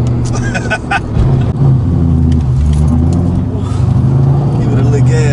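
A muscle car's engine idles and revs with a steady, loud, low rumble that shifts pitch slightly as the throttle moves, with people talking over it throughout.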